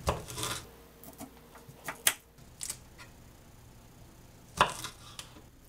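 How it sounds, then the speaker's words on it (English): Knife cutting the ends off Brussels sprouts and quartering them on a board, a few sparse, sharp chops and taps with quiet pauses between, close and fairly faint. "So I'm going to get them cleaned up and chop them up. Just chopping off the ends,"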